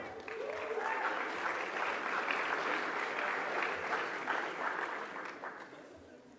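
Crowd applause and cheering at a school athletic gala, steady and fairly loud for several seconds before tapering off near the end.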